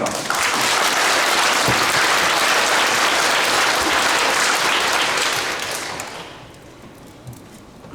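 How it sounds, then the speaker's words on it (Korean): An audience at a general assembly breaks into dense, sustained applause, loud and even for several seconds before fading away. "박수 한번 칩시다."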